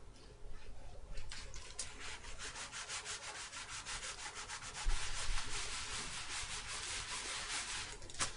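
Paper is rubbed off an image transfer on an art journal page in quick, rhythmic back-and-forth strokes, a close, dry scratchy rubbing that continues steadily with no talking.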